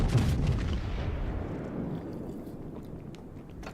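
A heavy battleship main-battery salvo in the naval combat game World of Warships: one loud, booming blast up close that rolls into a long, rumbling decay, with no voices over it.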